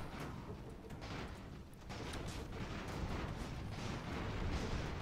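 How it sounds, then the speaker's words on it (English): Explosions and cannon fire in the airship battle game Airships: Conquer the Skies, a dense, continuous rumble of booms building steadily in loudness with no speech over it. "There's explosions happening, so just fire that way."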